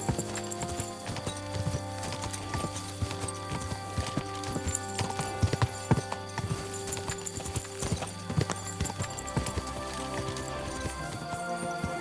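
Horse galloping in the video game Kingdom Come Deliverance 2, steady rapid hoofbeats with occasional snorts over rain-like ambience, close and continuous.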